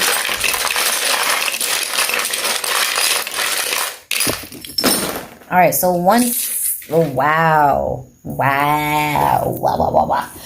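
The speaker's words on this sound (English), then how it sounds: "One slipped out of my hand, which is the coconut shell over here." A coconut shell and dice are dropped and clatter together in a long burst of hard rattling and clinking, followed by a person talking with excited, sing-song exclamations.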